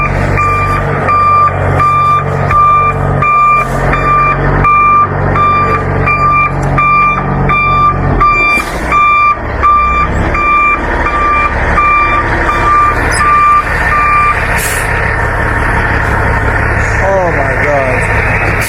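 A tow truck maneuvers a truck into place, its reversing alarm beeping in a steady repeating pattern for most of the stretch over a rumbling idling engine, with voices nearby, before the beeping stops.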